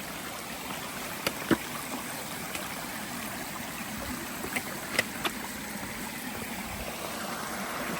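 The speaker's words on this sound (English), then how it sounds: "I haven't seen one of these water crossings" Stream flowing at a trail water crossing on the Appalachian Trail near the Smokies, a steady faint wash of running water with a few soft splashes and knocks, no voices.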